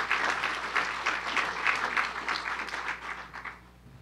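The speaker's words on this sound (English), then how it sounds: "give yourself a round of applause" Audience applause at a Liberty Trail announcement in South Carolina, brisk clapping from a sizable crowd that holds steady and then tapers off at the end.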